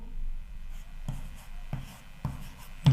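A pen writes out a math solution on paper, with scratchy strokes broken by a few sharp taps where the pen touches down, close and steady, with no voice over it.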